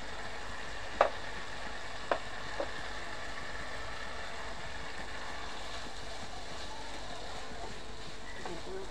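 Potatoes and minced beef frying and being stirred in a pan, a steady close sizzle with a few sharp scraping knocks early on.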